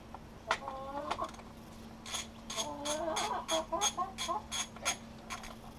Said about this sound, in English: The chicken wants to come and play too.